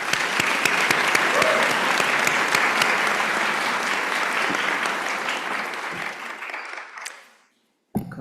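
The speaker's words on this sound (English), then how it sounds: "Let's recognize our faculty with a round of applause as well." Loud, sustained applause from a large audience at a pharmacy school graduation commencement, steady for about seven seconds before cutting off, then a brief burst resumes.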